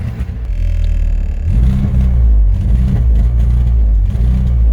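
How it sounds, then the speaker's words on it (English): Audi R8 engine with a rough-running fault revving unevenly as the accelerator is pressed, a loud close rumble that dips, then surges and wavers in pitch for several seconds with no voices. "When I put my foot on the accelerator."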